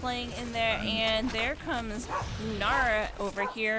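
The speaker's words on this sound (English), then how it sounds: "that's my dog, barking at my kids in the background" A pet dog barks and yips in the background at children while a commentator talks steadily over a Heroes of the Storm NGS match broadcast; the barking is partly masked by the continuous speech.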